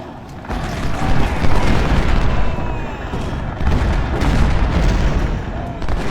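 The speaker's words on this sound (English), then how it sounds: "We've got a standing gun battle going over there on the left flank." A Civil War battle at Malvern Hill plays out in a video game: a continuous distant rumble of musketry and cannon booms, dense and rolling, with a voice talking faintly underneath.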